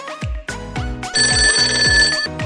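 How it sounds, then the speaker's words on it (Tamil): A toy telephone in a children's doll play scene rings loudly in repeated electronic bursts, each pulse separated by short gaps, with no talk over it. "என்ன ஃபோன் அடிக்குது?"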